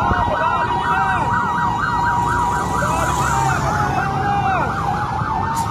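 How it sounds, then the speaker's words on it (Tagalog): A fire truck siren wails continuously nearby as the truck drives counterflow through traffic at a fire scene on Luzon Avenue, Quezon City, with the rising and falling tone loud over road rumble. "Ayan na isang bumbero guys. Padaanin nyo na, padaanin nyo na. Ayan na, counterflow na siya."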